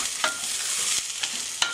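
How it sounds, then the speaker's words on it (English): A spoon stirs rice and lentils for mujaddara in a pot, a steady scraping swish broken by a few soft knocks against the side. "Give it a little stir,"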